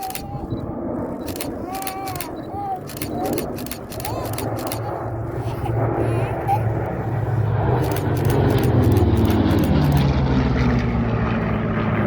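A Vought Corsair propeller fighter flies in formation through a loop at Sywell Airshow, its engine drone building steadily and growing louder toward the end, with sharp camera shutter clicks scattered over it.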